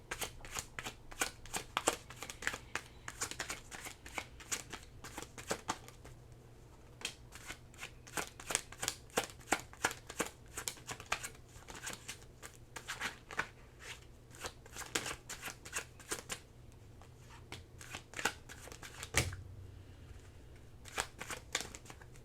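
Tarot cards shuffled steadily by hand for over twenty seconds, a close, quiet run of rapid riffling flutters and soft slaps with brief pauses between bursts.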